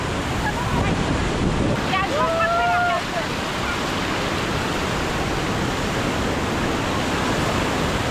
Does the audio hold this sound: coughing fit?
no